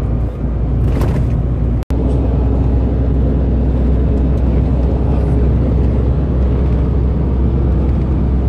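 A new truck drives along with a loud, steady low rumble of engine and road noise throughout, close by, broken by a single sharp instant near the two-second mark.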